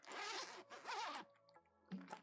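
The zipper on an outer pocket of a craft-supply storage bag is pulled in two quick, rasping strokes, followed by a shorter tug. It sounds close and quiet, with no voices.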